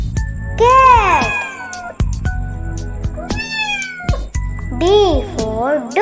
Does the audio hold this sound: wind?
no